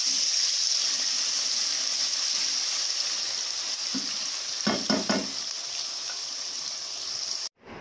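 Onions frying in a pan for keema dal, a steady close sizzle throughout, with a few stirring scrapes near the end before the sound cuts off abruptly.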